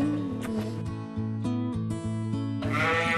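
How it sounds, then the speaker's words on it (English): A mother sheep bleats repeatedly, calling for her lamb, loud and close, with long wavering cries following one another almost without pause and no talk over them. "that's mom calling for the lamb"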